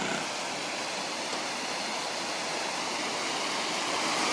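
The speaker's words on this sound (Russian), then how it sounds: "Вот такой местный водопад здесь." Steady, broadband roar of water pouring over a weir at a lock on the Irpin River, Ukraine, constant and fairly loud with no breaks or voices.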